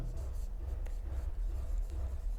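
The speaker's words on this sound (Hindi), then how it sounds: "इसका पूरी डेफिनेशन लिखता हूं मैं" A short stretch of writing on a board during a physics lesson on acceleration: soft scratching strokes, fairly faint and close, with no voice over them.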